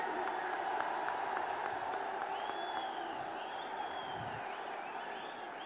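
A large rally crowd in Kolkata claps and murmurs steadily to welcome Prime Minister Narendra Modi, a broad, even wash of applause heard at a distance with faint whistles on top.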